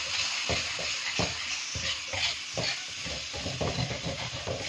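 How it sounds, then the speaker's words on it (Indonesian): Soto ceker broth of chicken feet starts to boil in a pot, giving a soft steady hiss and sizzle with faint bubbling pops throughout, quiet and close. "ini udah mulai sedikit mendidih"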